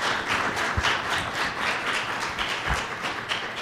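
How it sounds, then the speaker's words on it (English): A conference audience applauds after a presentation on classroom renovation, giving steady, fairly close clapping from a modest crowd that continues evenly for several seconds. "Give them a round of applause."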